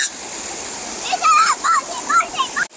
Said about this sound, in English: Adventures of Abby Girl shows how to cross the water